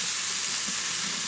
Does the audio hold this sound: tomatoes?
yes